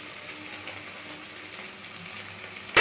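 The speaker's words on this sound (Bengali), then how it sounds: "সবগুলোকে একদিকে ভাজার পরে একটু ভেজে নিতে হচ্ছে।" Chicken pieces frying in a pan, cooked for chicken chap and chilli chicken, give a steady, close hiss and sizzle that holds level for the whole stretch, with a sharp knock right at the end.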